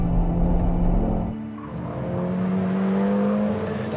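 A Renault Clio 220 Trophy hot hatch engine drones steadily close by, a low hum that dips briefly and then settles back into an even, sustained engine tone.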